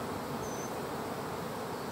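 Swarming honey bees from an observation hive fill the air with a dense, continuous buzz, steady and even throughout, with no voices.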